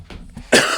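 A single sharp cough bursts out near the end, loud and close, after a brief stretch of low murmuring.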